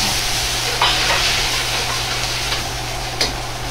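Steady bubbling and hissing from sweet and sour sauce boiling in a pot on the heat, with a low hum underneath and a couple of soft clinks, no talking.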